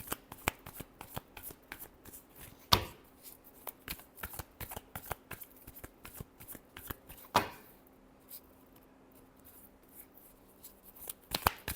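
Tarot cards shuffled by hand in a quiet room, with repeated riffling and soft flicks punctuated by a few sharper slaps of the deck, fairly close and moderately loud.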